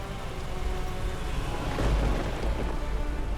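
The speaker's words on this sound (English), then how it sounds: "the immense storm rages through Washington, dousing most of the flames" A storm with heavy rain and rumbling thunder, a constant wash of rainfall with a low roll of thunder swelling near the middle, loud and unbroken.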